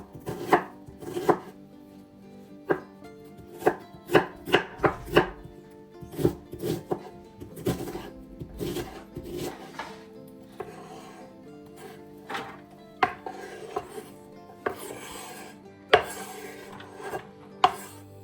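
Two medium onions being finely chopped with a knife on a board: quick, close, irregular knife strikes in short bursts with brief pauses, and no talking.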